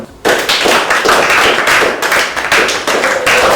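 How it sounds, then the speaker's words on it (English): A classroom of students claps together, a dense, steady burst of hand claps that starts abruptly and keeps going loud and close throughout. "Alright, class, I want you all to clap for Ngozi and Sonia."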